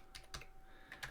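Keys clatter on a computer keyboard in a few quick, light bursts of typing, close and fairly quiet, with no voices.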